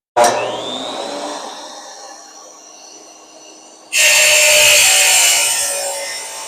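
DEWALT wet tile saw making a thin cut through tile: a steady whirring motor hum that grows into a louder, harsher grinding roar partway through as the blade bites in, close and without talk.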